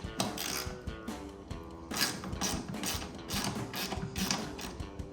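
Ratchet wrench backing out an 8mm bolt on the hood of a Ford F-150 Raptor during a hood scoop install; steady, close, rapid metallic clicking runs without pause, with no talking.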